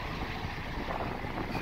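Steady wind roaring and buffeting the microphone on a fishing boat off Santa Margherita Ligure during a summer thunderstorm, a continuous broadband rush with no voices.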